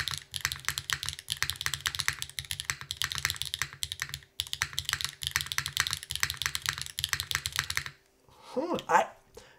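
Rapid typing on a Fossil F13 mechanical keyboard with HMX gravel switches, an aluminum plate and GMK keycaps, a steady clatter of keystrokes punctuated by a loud, deep space bar, stopping abruptly near the end.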